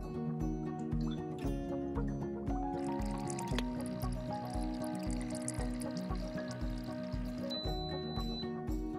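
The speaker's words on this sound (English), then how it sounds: "As you can see now, the air is infusing the wine." A Zencore electric wine decanter pumps air into wine, making a steady bubbling, gurgling and dripping of liquid over a low rhythmic mechanical hum, close and fairly quiet throughout.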